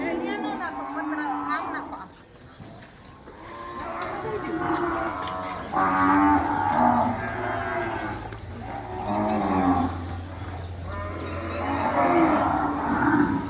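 Cows moo repeatedly and loudly as women feed them, with several overlapping calls from close by and voices chattering underneath.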